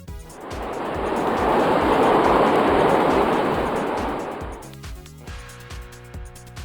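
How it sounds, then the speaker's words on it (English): A monorail train sweeps past, a broad whooshing roar building to a loud peak and fading over several seconds before a rhythmic background beat takes over. "Monorail."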